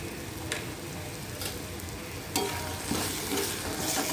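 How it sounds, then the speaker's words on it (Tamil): Masala and tomato sauté in hot oil in a pan, a steady close sizzle with intermittent scraping stirs, no talking. "இந்த மசாலா தக்காளி எல்லாம் நல்லா வதக்கிக்கலாம்"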